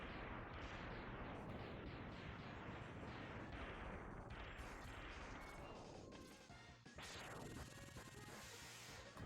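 Dense, continuous barrage of explosions from the Sigma Fortress stage of the Mega Man X video game, loud booms and crashes overlapping for the whole stretch with a brief dip near the end.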